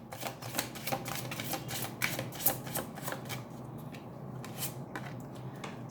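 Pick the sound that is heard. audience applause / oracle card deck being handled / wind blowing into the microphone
oracle card deck being handled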